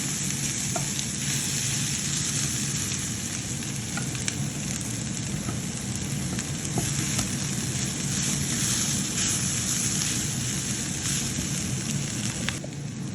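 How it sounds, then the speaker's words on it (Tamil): Pieces of stingray fish fry in a pan for a spicy Jaffna-style fish varai, giving a loud, dense, continuous sizzle and crackle that stays even throughout, close up with no voices. "இங்கே பாருங்க திருக்க இந்த வறுத்து முடிகிற கட்டத்தில் வந்துட்டுது"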